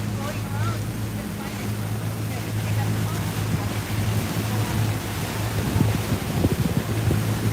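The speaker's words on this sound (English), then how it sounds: "Look at those waves crashing against the seawall." Waves wash and splash against a seawall beneath a steady low engine rumble and wind noise, the surges growing louder toward the end, on Fort Lauderdale's Intracoastal Waterway.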